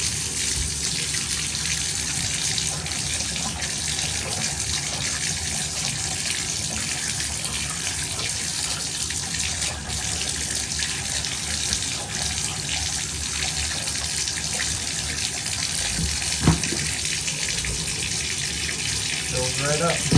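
Water pours steadily from a bathtub faucet into the tub during a shower leak repair, a continuous broadband rush that holds for about twenty seconds with a brief knock near the end.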